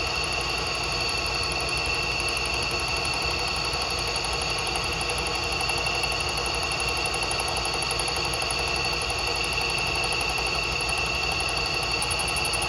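Boring head taking the final cut on an exhaust flange, a continuous loud machine whine with a steady high squeal holding evenly from start to end, with no talk.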